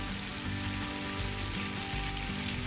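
Rings of sliced onion fry in a pan for a Kerala-style fish molly, making a soft, continuous sizzle heard close by.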